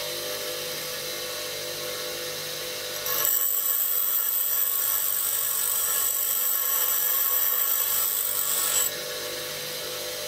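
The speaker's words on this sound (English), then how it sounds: "so I'm just using the standard bench grinder" A D reamer being ground to 5 mm on the fine wheel of a standard bench grinder, a steady close rasping grind lasting several seconds, set against a constant motor hum before and after contact.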